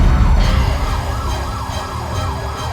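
Ambulance siren wailing in a repeating rising-and-falling cycle over the low rumble of road traffic, loud and fairly close, with no talking.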